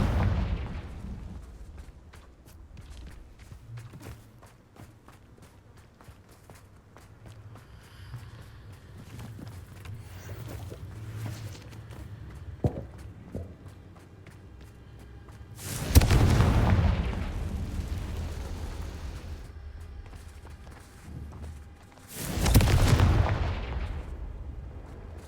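Confringo spell explosions in the video game Hogwarts Legacy, two heavy booming blasts several seconds apart over a low rumbling game backdrop with scattered footsteps and small impacts.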